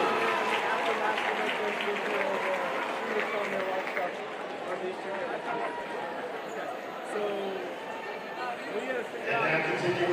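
A gym crowd at halftime of a Rogers vs Bentonville varsity boys basketball game applauds the Rogers High School cheer team with sustained, dense clapping and chatter throughout.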